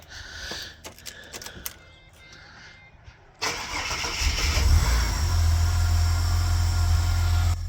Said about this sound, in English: added some fuel, let's see if it starts